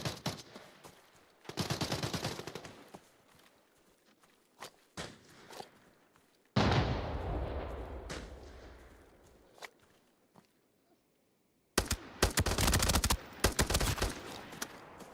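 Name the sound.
ML rifle firing in a video game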